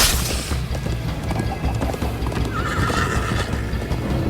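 A horse gallops and neighs in the Minecraft Story Mode video game, with close, steady clip-clopping hooves under a loud whinny partway through.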